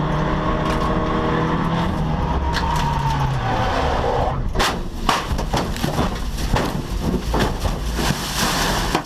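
A Fiat 500 Abarth race car on a track, its engine note falling away before a loud burst of scraping, thumping impacts and crunching noise from a crash, all heard through strong wind buffeting on the microphone.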